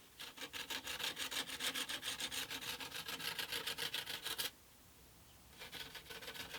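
Fine 240-grit sandpaper rubs back and forth over a wooden guitar fretboard in quick, even rasping strokes, close and steady, then stops for a moment before the scraping resumes.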